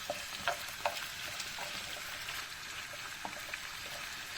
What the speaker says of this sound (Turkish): birazcık kavuruyoruz. Kavurma süresi havucun hafif rengini verdiği an yeterlidir.